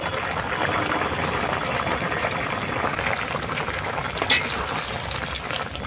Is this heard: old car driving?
no